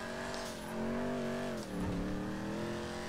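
A race car engine in the GTA V video game revs steadily with a loud, droning roar that dips briefly and then climbs again, with no voices.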